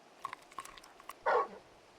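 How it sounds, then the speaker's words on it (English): In Final Fantasy XVI, a large dog gives one loud, close bark after several faint clicks and quiet yips, with a soft whimper trailing off into a quiet background. "You're just a big puppy, aren't you? A very big puppy."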